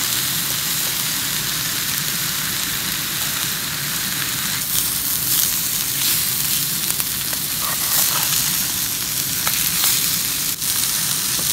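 A chicken patty fries with mushrooms and wild garlic in a pan, giving a loud, steady sizzle and crackle that runs unbroken throughout, close up, with no voices.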